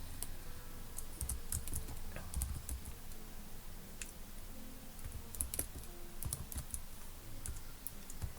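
Rapid typing on a computer keyboard while entering a sheet name in Excel, a steady stream of soft close key clicks with no talking.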